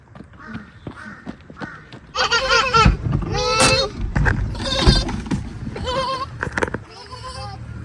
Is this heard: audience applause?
no